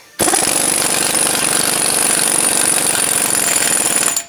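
An impact wrench snugs the front axle nut on a 2013 Chevy Silverado during a hub assembly and ball joint install. It hammers loud and close in one continuous burst of about four seconds, then cuts off.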